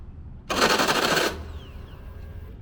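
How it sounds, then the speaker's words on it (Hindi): A harsh, rapid mechanical rattling burst lasting under a second, like a starter grinding and slipping without catching, followed by a faint hum. "जैसे ही मैंने दूसरी दफ़ा स्टार्ट करने की कोशिश की तो कुछ ऐसी आवाज़ आना शुरू हो गई"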